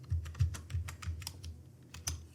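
Someone typing on a computer keyboard with quick, close key clicks in a short, uneven run, fairly quiet and with no talking.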